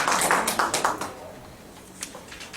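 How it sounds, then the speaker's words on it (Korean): An audience in a university lecture room applauds to welcome a guest professor, a brief burst of clapping that fades quickly into a quieter room. "박수로 환영해 주세요."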